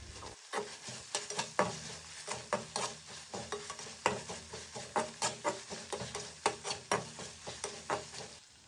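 Curry leaves and crushed ginger-garlic paste sizzle in hot oil, with a steady crackle broken by frequent close scrapes and clicks of stirring in the pan; no voices.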